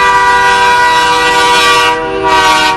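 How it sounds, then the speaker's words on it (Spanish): Loud, sustained truck air horn in the World Truck driving game, one long blaring blast with a brief dip before it resumes, with no talk over it. "Vamos a sonarle la bocina."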